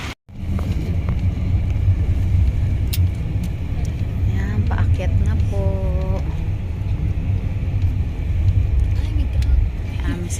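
A steady, loud low rumble of engines aboard the Roro Master ferry ship runs unbroken throughout, with faint voices briefly rising over it near the middle.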